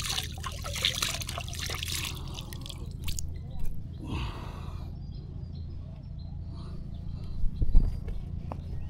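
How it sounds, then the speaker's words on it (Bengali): Hands being washed in water outdoors by a river, with intermittent trickling and splashing, a brief louder pour in the middle and soft dribbles near the end, fairly close and quiet. "হাতটা ধুয়ে নেব"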